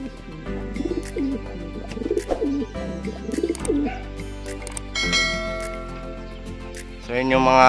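Young racing pigeons in a loft give repeated soft, rolling coos at close range, with some clearer tonal calls and light clatter toward the end over a steady background hum.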